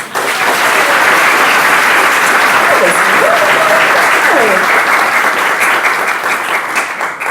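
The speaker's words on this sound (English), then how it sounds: "So, one more time, everybody gets a round of applause" A crowd at a student youth enrichment program luncheon breaks into sustained applause, loud and even from start to finish, with some voices and cheers mixed faintly into the clapping.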